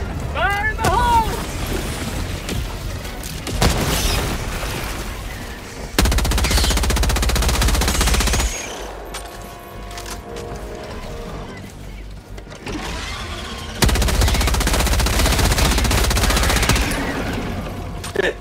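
A sentry turret in Helldivers 2 fires long, loud bursts of machine-gun fire in repeated stretches with pauses between, under chaotic battle noise and occasional voices.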